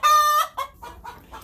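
Indoor house chickens clucking up close, one loud drawn-out squawking call followed by several shorter, softer clucks, with no talk.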